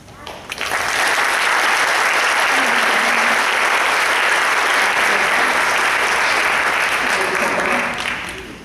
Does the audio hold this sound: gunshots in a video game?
no